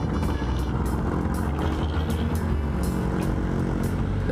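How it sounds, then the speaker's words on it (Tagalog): Night street traffic noise, a continuous low rumble of passing cars and motorbikes with engine drone and occasional louder swells, fairly close and steady throughout. "Grabe yung singit. Traffic."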